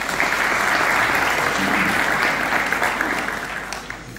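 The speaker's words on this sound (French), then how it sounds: "S'il vous plaît, vous applaudissez." Sustained audience applause fills a hall at a 2024 business forum held at a management school in Settat, steady and dense for about four seconds before tapering slightly at the end, with no voices over it.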